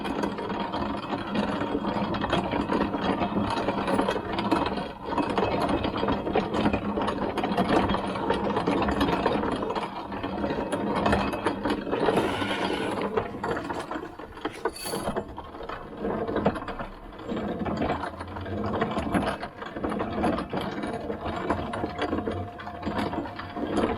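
An antique hand-cranked grinder grinds slightly damp ear corn, giving a steady, continuous mechanical rumble of turning gears and crunching kernels throughout, close and loud with no talking.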